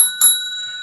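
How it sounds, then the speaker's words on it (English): A notification bell sound effect gives a single bright ding with a clean ringing tone that fades out slowly. It is close, clear and heard on its own. "So if you press the bell notification"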